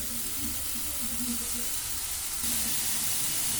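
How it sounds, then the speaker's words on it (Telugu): Tomatoes, capsicum, chili and carrot fry together in a pan, giving a steady close sizzle with a few faint stirring scrapes. The sizzle grows slightly brighter near the end. "టమాటోస్ బాగా ఫ్రై చేసుకోవాలి"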